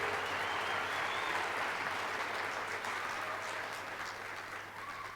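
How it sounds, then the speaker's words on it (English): A celebration audience applauds award recipients with sustained, dense clapping that fades slightly toward the end. "Let's give everyone another round of applause"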